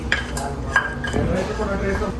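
A spoon stirs tempering into tomato dal in a metal pot, giving a few sharp clinks and scraping strokes against the pot.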